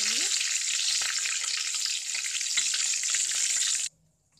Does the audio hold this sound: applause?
no